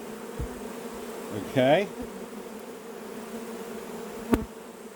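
Angry honey bees buzz steadily at an open hive, a close, continuous drone with a brief louder swell and a short burst near the end, while a person speaks a single word quietly.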